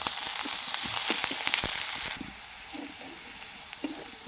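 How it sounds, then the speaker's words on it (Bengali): Onion, crushed ginger-garlic and chopped green chilli frying in a pan for aloo paratha filling, a loud steady sizzle with stirring scrapes that drops to a quieter crackle partway through. "আর এখানে কাঁচা লঙ্কা কুচি দিয়ে ভালোভাবে আবার ভেজে নেব"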